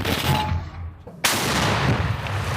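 A single powerful tank cannon blast erupts midway, loud and close, after a stretch of low rumbling noise, with the boom rolling on afterward.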